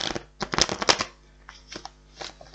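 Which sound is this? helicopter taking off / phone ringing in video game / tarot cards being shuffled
tarot cards being shuffled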